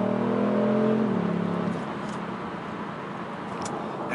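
A 2018 Kia Stinger GT1 in sport mode under hard acceleration, a steady loud engine drone that holds and then drops into a broad rushing road and wind noise, with no talking.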